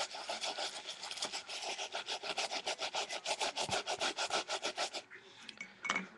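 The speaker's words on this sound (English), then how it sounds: "So you just want to start scrubbing it in." Rag scrubbing a wet surface back and forth in a fast, even rhythm, close and fairly soft, about two dozen strokes before stopping, followed by a few quieter handling noises.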